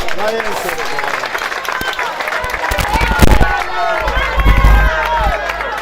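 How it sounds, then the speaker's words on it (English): Crowd at a Kawempe North debate at the NUP head offices applauds the candidates, sustained clapping and cheering mixed with babble and shouts, loud and steady throughout with a swell near the end. "Let's clap for all the candidates for Kawempe. Please clap louder."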